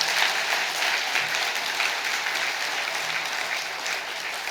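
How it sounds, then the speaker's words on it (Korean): Steady, even applause from an audience at a Buddhist dharma lecture at Bongeunsa temple, filling the whole stretch at moderate loudness with no speech over it. "우리 다시 한번 박수 한번."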